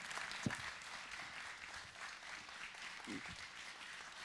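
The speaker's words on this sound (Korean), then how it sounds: "자, 우리 박수로 축복합시다." A church congregation applauding during a New Year blessing dawn revival service, a steady, fairly faint wash of clapping from a gathered crowd with no clear breaks.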